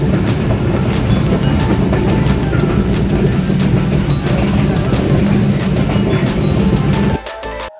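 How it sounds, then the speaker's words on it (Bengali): A passenger train runs on the rails between Santahar and Birampur in Bangladesh, giving a loud steady rumble with rhythmic clicking of wheels over joints that cuts off abruptly near the end, with no speech. "আমাদের ট্রেনটি ছুটে চলেছে সবুজের বুক চিরে।"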